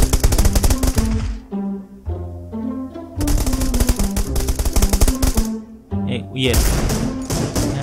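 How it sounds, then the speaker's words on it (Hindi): Bursts of rapid automatic gunfire in a PUBG Lite team deathmatch, loud and close, firing in repeated volleys with brief gaps, while someone talks over parts of it. "चारों तरफ से फायरिंग हो रही है"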